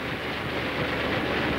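A train runs steadily on rails in a 1932 film, with a continuous loud rumbling roar and faint clattering that carry on without a break and with no talk.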